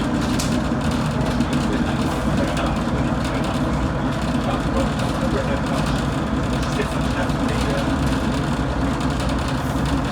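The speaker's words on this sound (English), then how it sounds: "Here I am arriving back into Washford on this Class 115 DMU" A Class 115 diesel multiple unit on the West Somerset Railway pulls into Washford station, its engine and wheel noise forming a steady, loud, continuous rumble throughout.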